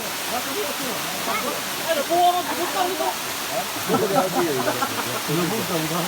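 Bulabog Bai Falls, a jungle waterfall, pours with a constant rushing hiss, and people talk and call out over the steady roar of water.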